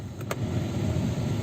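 A steady, rushing hum of a Hyundai i20 Sportz air-conditioning blower fan fills the cabin, even and continuous, with a couple of faint high ticks near the start.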